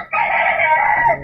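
A chicken gives a single loud, close call that holds steady for about a second, standing clearly on its own.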